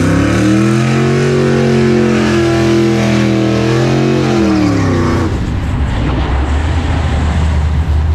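A COPO Camaro drag car roars down the strip, its engine note rising steadily in pitch through the gears for about five seconds before dissolving into a loud, broadband rush of fading exhaust and wind.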